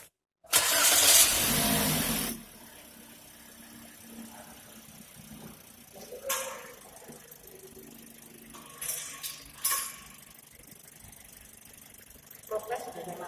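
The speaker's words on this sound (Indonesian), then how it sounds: "saya nyalakan mesinnya." A gasoline engine cranks and starts for an exhaust emission test, roaring loudly for about two seconds, then settling into a steady idle with occasional clanks and handling noises nearby.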